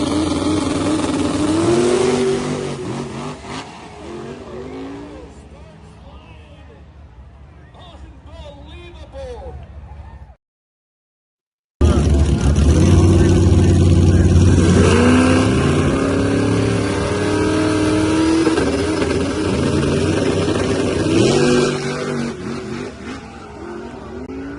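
A black Mustang race car accelerates hard during a drag racing pass, its engine revving loudly and continuously, with a brief gap of silence midway, and voices talk over the engine noise.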